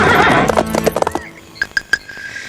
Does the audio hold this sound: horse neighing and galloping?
yes